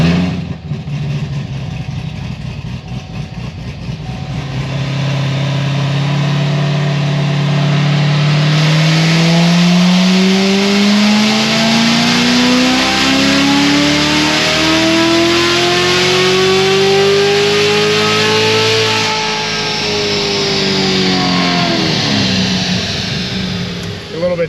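A 950 hp Corvette C7 Z06 on a dyno, boosted on 93 octane, climbs from idle into a long loud rising rev that holds high then drops back, with a voice speaking over it at times.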